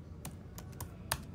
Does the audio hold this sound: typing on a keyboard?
yes